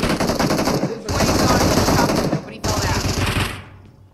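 Gunfire in a shooter video game, rapid loud bursts of shots with sniper rifle fire, in two or three dense stretches with short breaks between them, fading toward the end.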